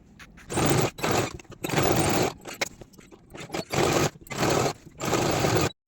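A sewing machine stitches the crotch seams of a boy's pajama night suit in five or six loud, close bursts of fast needle clatter, each separated by short pauses as the fabric is repositioned.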